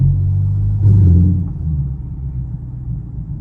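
A Chevrolet Camaro SS V8 rumbles deep and loud from inside the cabin, swelling briefly in a short rev before easing back to a lower, uneven burble.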